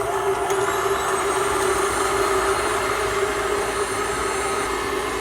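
An electric mixer whips room-temperature egg whites for soufflés, giving a steady, whining motor drone that holds an even pitch throughout, close and alone.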